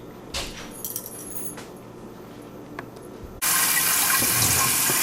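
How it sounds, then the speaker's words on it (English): Cold tap water gushes steadily onto freshly strained chena in a kitchen strainer, starting abruptly after a few soft clinks and running loud and close to the end. "I'm going to strain it and run cold running water on it"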